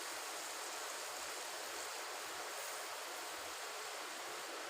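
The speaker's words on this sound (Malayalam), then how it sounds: "ഈ സമയം നമുക്ക് കുറച്ച് പുളിവെള്ളം ഒഴിച്ചു കൊടുക്കാം" A steady, dense hiss of liquid runs continuously throughout, as tamarind water pours into a pan of bitter gourd curry, close and even with no pauses or voices.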